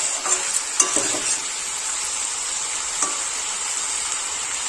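Boiled new potatoes and red amaranth stems being stirred in a pan, a steady hissing sizzle broken by a few scraping spatula strokes and light clinks.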